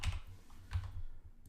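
A few keys are pressed on a computer keyboard, two or three distinct close clicks spaced apart in quiet surroundings.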